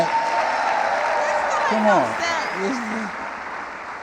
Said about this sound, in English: You got to give my daughter a better round of applause than that.